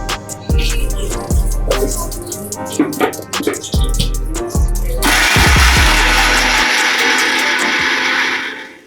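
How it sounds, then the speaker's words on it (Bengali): A kitchen mixer grinder blending garlic and ginger into paste, starting with pulsed bursts of whirring and clatter, then a loud continuous high-speed grind that runs to the end. "টমেটোটাকে মিক্সার গ্রাইন্ডারে দিয়ে মিক্স করে নিচ্ছি।"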